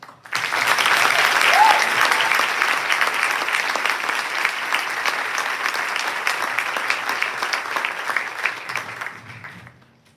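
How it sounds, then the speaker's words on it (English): An audience at a senior awards ceremony breaks into sustained applause for students, a dense, even wash of many hands clapping that holds steady for about ten seconds before tapering off. "Please help me recognize these students with your applause."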